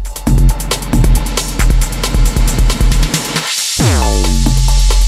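A repeating electronic beat drenched in reverb from a Pioneer DJM-900 Nexus mixer cuts out, then a bright high-pitched reverb tail rings and slowly sweeps downward, loud and close.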